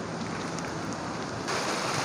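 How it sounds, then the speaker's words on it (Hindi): Steady hiss of light rain falling in sunshine in Kalam valley, Swat, even and fairly quiet, growing slightly louder toward the end. "यहाँ पे धूप है और धूप में हल्की हल्की बारिश।"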